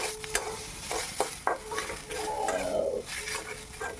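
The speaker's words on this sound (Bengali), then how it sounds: "এভাবে নেড়ে চেড়ে ভালো করে চালটাকে আমি ভেজে নিলাম" Gobindobhog rice being dry-fried and stirred in a pan, close scraping strokes of a spoon against the pan over a soft sizzle, with a faint birdlike coo in the background.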